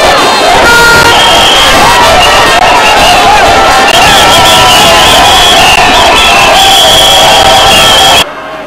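Huge crowd of thousands at a UNIR party rally marching in support of the president, roaring, chanting and cheering loudly and continuously, with whistles and shouts, before cutting off abruptly near the end.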